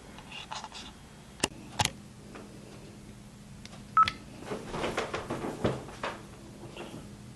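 Telephone keypad tones sound as someone dials during a call to an automated phone line, a few short separate beeps mixed with soft handling clicks and quiet background rustle.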